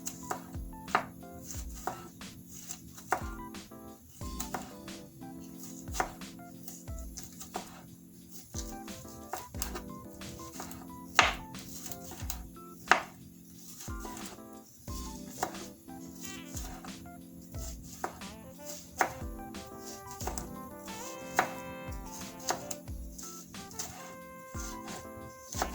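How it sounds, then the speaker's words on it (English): A sharp knife chops callaloo leaves finely on a board, sounding as repeated crisp knocks in uneven bursts across a long stretch, with chickens clucking in the background. "I cut my callaloo very fine."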